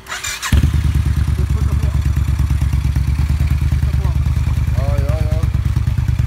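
A Suzuki Intruder 1400 motorcycle with a Vance and Hines exhaust fires up and settles into a loud, deep, rhythmic lumpy idle right up close, with brief speech in Swedish over the engine; the bike has a faulty clutch.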